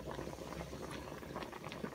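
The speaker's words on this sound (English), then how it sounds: "Spuds boiling up there." Potatoes boiling in salted water in a pot at a cabin, a quiet, steady bubbling and popping close by, with no voices.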